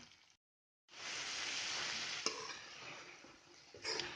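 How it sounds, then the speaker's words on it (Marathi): Pumpkin halwa thickening in a pan on a medium gas flame is stirred, giving a steady close sizzle and scraping after a brief pause, with a couple of sharp clinks of the spoon against the pan. "मध्यम गॅसवरती हे सारखं हलवत करायचं"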